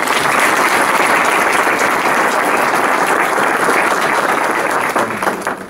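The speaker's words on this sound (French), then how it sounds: "On peut les applaudir." Loud, dense applause from a crowd for a volunteer music band at a school carnival, sustained evenly before tapering off at the end.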